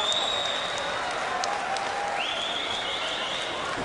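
Crowd at a badminton match, the 2015 US Open men's singles quarterfinal, cheering and applauding after a game-point winner, a sustained wash of clapping with a whistle-like tone sliding in partway through.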